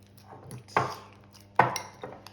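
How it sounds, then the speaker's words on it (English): Egg yolk being mixed into thick kaymak cream in a bowl, with a fork or utensil knocking and scraping against the dish in a couple of sharp, close clinks amid quieter stirring. "just mix the egg yolk with the cream"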